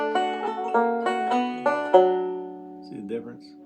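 Banjo plucked in an even, straight eighth-note rhythm, bright ringing notes picked in a steady run then left to sustain, with a short strummed figure near the end, close and clear with no talk.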